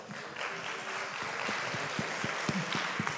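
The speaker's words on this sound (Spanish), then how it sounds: "por favor un aplauso para ellos." Audience applauding two guests at a university forum, a soft, steady wash of clapping at a distance, with a few louder individual claps standing out toward the end.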